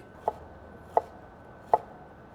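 A knife slices through fresh jalapeño peppers on a cutting board, three separate crisp chops spaced evenly apart, close and distinct against a quiet background.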